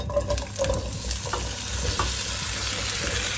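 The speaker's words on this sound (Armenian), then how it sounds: "Տաք թավայի մեջ ավելացնում եմ մի քիչ ձետ, ավելացնում եմ կարտոֆիլը։" Potatoes frying in a little fat in a hot pan for Georgian ojakhuri, a steady close sizzle with occasional stirring scrapes throughout, no voices.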